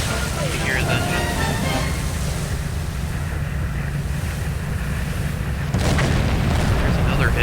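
Surging sea and wind noise carry on steadily in the Silent Hunter 4 submarine game until a torpedo strikes a ship, adding a sudden low, heavy thud near the end that lifts the rumble louder.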